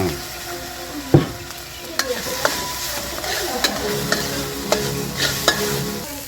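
Rice being stirred and fried with durian, vegetables and soy sauce in a hot pan: steady close sizzling with repeated scraping, clanking strokes of a spatula against the metal.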